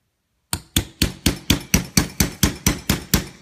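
After a short silence, a hammer strikes metal twelve times in a quick, even rhythm, each blow a loud, close, ringing tap punching holes in an ice-filled tin can.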